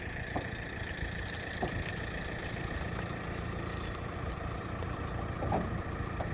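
A tractor engine idles with a steady, continuous low rumble and hum. It holds at an even level throughout with no talking.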